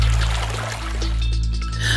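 Water splashes and pours steadily at the Wasserklops fountain in Berlin, a loud, continuous rushing wash with a low background hum.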